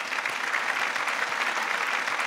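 Audience clapping in a hall, a dense sustained wash of many hands applauding steadily and evenly throughout, with no talk.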